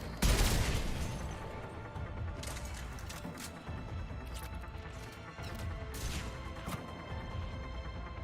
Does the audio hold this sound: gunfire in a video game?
yes